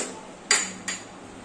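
A metal pot lid clanks shut and the pot is set down on a gas stove, two sharp clattering knocks about a third of a second apart in a quiet kitchen.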